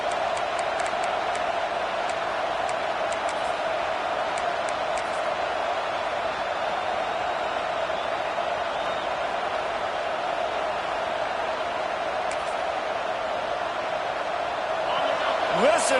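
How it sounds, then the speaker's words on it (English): A large stadium crowd in an American football video game roars in a sustained, steady wash of noise, with faint sharp thuds and sports commentary over it. "Listen to this crowd just shaking the girders of this place"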